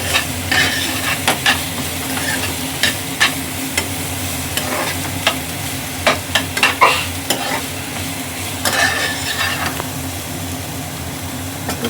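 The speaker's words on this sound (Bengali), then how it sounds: "এবার এটাকে একটু হালকা হাতে ভেজে নেব।" Potato pieces for crispy chilli potatoes fry lightly in a pan over a steady sizzle. Frequent clacking stirs of a utensil against the pan come in irregular clusters, close up, with no voices.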